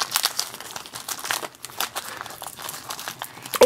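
Tough plastic packaging on a Shopkins Fashion Spree toy being pulled and torn open, giving close, irregular crinkling and crackling with bursts of tearing and no talk.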